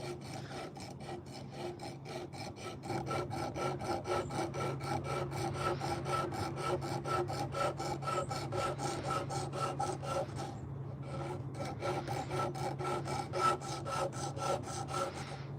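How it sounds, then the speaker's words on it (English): A high-speed sander grinds against nectarine wood while a fork is carved, giving a rapid, even rasping buzz that runs continuously and close, growing slightly louder after the first few seconds. "I'm using my high-speed sander today."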